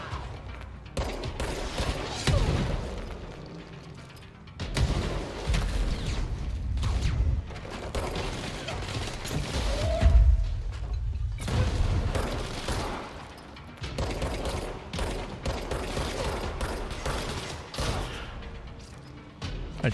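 Gunfire rattles on in the video game Control, with dense bursts of shots and low booms mixed with mechanical clatter, continuing through most of the stretch with short gaps.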